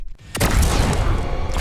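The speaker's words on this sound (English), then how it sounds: "Predator has access to advanced weapons and technology such as his plasma caster, which is able to fire deadly bolts of energy" A Predator's plasma caster fires in a Mortal Kombat fight, a single loud blast with a booming impact that rolls on as a sustained roar of energy after a brief quiet start.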